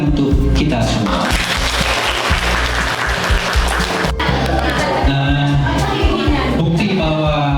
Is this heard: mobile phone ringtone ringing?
no